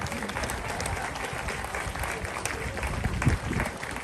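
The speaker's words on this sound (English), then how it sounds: "hopefully, you can clap for Chuck, he'll like that." A crowd at an outdoor rally against anti-Asian hate applauds for a senator, a steady roar of clapping with a few louder thumps near the end.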